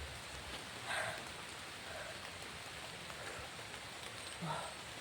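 Rain hisses steadily and faintly on a rural farm, with a few soft louder patters breaking the even wash of drops.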